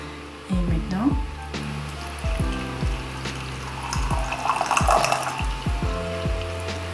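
Hot water at 95 degrees poured over black tea leaves and into a teapot to rinse and warm it, a steady splashing stream with clinking and short knocks, in a traditional Vietnamese tea room with a voice talking over it.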